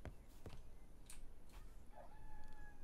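A chicken in the barn-clearing game Barn Finders clucks and calls faintly in short, scattered notes over a quiet background.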